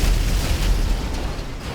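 Video game explosion in GTA 5: a deep, rumbling blast that stays loud and heavy for nearly two seconds, with no voices over it.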